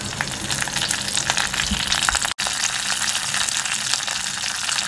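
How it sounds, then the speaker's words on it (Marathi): Steady crackling sizzle of garlic and mustard seeds frying in hot oil, loud and close, continuing without pause apart from one brief cut. "आता तेल तापलं आहे, लसूण टाकून घ्यायची फोडणीला."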